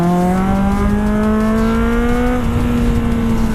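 A Kawasaki Z800 motorcycle, the 47 hp A2-restricted version, pulls hard along a winding mountain road, its engine note climbing steadily in a loud continuous rev with no talk.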